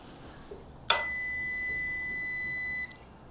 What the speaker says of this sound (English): I'm basically going to put continuity for it until I get a beep